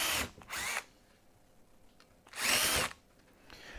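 A power drill boring a through hole in a small wooden workpiece for a bandsaw box, two loud whirring bursts separated by a quiet pause.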